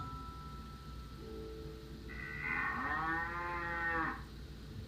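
A single long cow moo, rising and then falling over about three seconds, clear and fairly close against a faint background hum.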